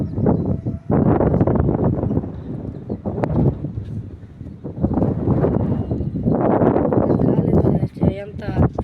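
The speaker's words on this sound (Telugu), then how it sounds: "గాలి ఎంత గట్టిగా వేస్తుందో." Strong wind buffets the microphone outdoors in long roaring gusts, loud and steady across the whole stretch, with a person talking over it.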